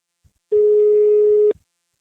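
One long electronic ringback tone sounds for about a second on a phone line, steady and clear, with silence before and after.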